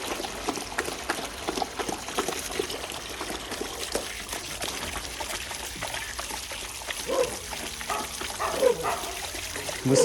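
Akela the wolf splashes and spills water, then laps at it, giving a close, uneven trickling and slurping over steady outdoor background noise.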